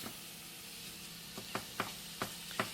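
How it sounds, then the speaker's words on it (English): Bacon sizzles in a pan in a galley kitchen, a steady faint hiss broken by several sharp pops and spatters spaced through the stretch, no voices. "cooking up the bacon"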